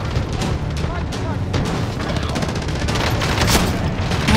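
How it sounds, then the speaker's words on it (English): Gunfire in the video game Warzone as a dense, continuous barrage of shots and booms. It stays loud and steady throughout, with no breaks. "Man, I'm getting shot from the side!"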